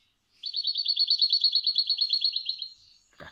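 Goldfinch giving a fast jingle-bell cascabel phrase, a long even run of bright repeated notes, clear and close, with a brief voice onset just at the end.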